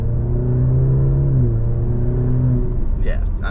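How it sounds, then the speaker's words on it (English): A 2023 Maserati Grecale Modena makes a brief, quick burst of acceleration, heard as a loud, steady engine drone with rising tones from inside the cabin. "just quick little acceleration right there"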